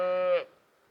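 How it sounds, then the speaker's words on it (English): A single cow moos on open range: one sustained, harmonic low call lasting about half a second, close and fairly loud, ending abruptly and followed by quiet outdoor ambience. "it is open range for cows up here"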